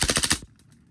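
A WE Glock 35 airsoft gas blowback pistol fires a short full-auto burst of about six rapid, loud, close pops, then cuts off to near silence.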